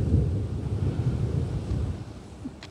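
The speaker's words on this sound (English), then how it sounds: "That's thunder." Thunder rumbles outdoors as a deep, loud roll that swells and slowly fades over a few seconds, with no one speaking.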